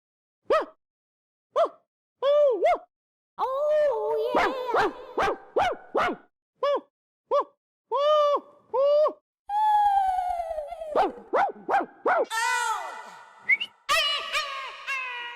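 Dog barking and whimpering in a police comedy show, a run of short, evenly spaced yelps and barks followed by drawn-out whining and whimpering calls, close and clear against silence.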